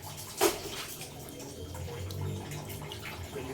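Running water splashes steadily while laundry is washed by hand and water is poured into a bucket, a continuous close wash with a brief louder splash near the start.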